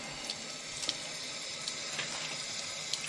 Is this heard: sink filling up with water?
yes